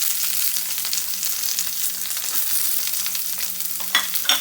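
Chopped onion and curry leaves stir-frying in hot oil in a pan, a steady bright sizzle with a few louder crackles and scrapes near the end, no talking.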